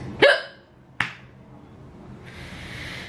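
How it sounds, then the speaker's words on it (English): Two sharp, close hiccups about a second apart, the first louder than the second, followed by quiet room background with a faint hiss. "I have hiccups."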